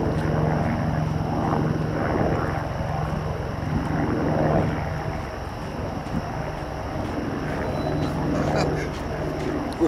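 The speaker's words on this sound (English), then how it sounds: "We're being interrupted by a police helicopter." A police helicopter passes overhead at night, its rotor and engine making a steady throbbing roar that swells and fades slightly as it moves across the sky.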